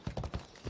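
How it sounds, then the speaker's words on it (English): A horse's hooves clip-clop in a quick, light rhythm in the video game Assassin's Creed Odyssey, a few soft muffled footfalls heard briefly at low volume. "Let's get back on the horse, I guess."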